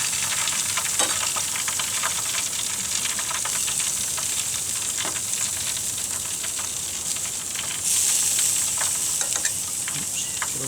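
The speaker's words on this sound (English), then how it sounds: "There's our zucchini grilled with Italian herbs." Zucchini with Italian herbs sizzles steadily on a hot grill, a constant bright crackling hiss with small pops scattered throughout, close and loud, no voices.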